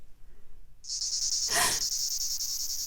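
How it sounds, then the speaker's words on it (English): Cicadas suddenly start up in a loud, steady, high-pitched buzzing drone that swells and holds, with a brief rushing burst partway through, over faint background noise. "They're just cicadas."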